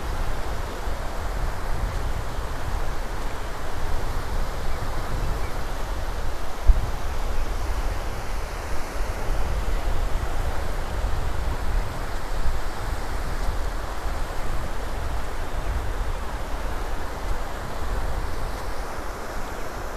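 Ocean surf at Indian Rocks Beach, Florida, rolls in as a steady, broad wash of waves, with wind rushing across the microphone throughout and no voices.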